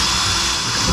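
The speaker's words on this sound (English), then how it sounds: "I hate to drill holes in it" A power drill boring holes into the body of a 1970 Ford Falcon, a steady, loud, broadband whir held for about a second, close by with no talking.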